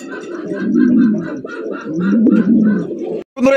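Tailmark pigeons, including a black one, coo in a soft, rhythmic series of throaty calls, close and clear, with faint chirps between them.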